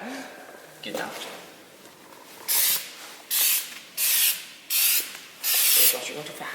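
Repeated bursts of spray paint from a spray gun coating a first-generation Dodge Cummins truck in a shop, five loud hissing passes of about a second each with short gaps, and people talking between them.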